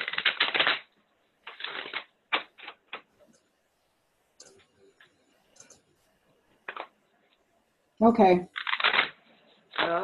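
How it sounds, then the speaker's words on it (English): A deck of tarot cards is shuffled by hand in several riffling bursts separated by quiet pauses, ending with a louder flurry, and one short spoken word comes near the end. "you got to let me know when to stop shuffling"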